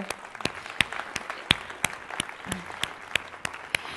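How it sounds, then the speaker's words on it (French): Audience at a rap battle event applauding panelists, a steady crowd wash punctuated by sharp, regularly spaced loud claps, likely one nearby person clapping in rhythm, with no speech over it. "encore une main d'applaudissement à nos 3 panélistes."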